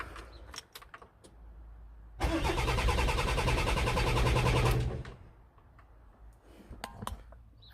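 A van's engine cranks loudly and evenly for about three seconds after a few clicks from the key and switches, then drops to a quieter, uneven rumble.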